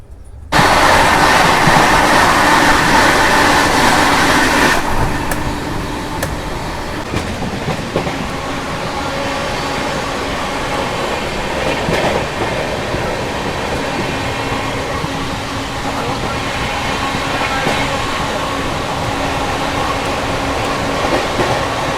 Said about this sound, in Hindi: क्रैशिंग मनमाड़ एट 110 kmph, और यहाँ पर मोस्टली सारी ट्रेन रुकती है, बट अपने दुरंतो को स्किप दिया जा रहा है यहाँ से।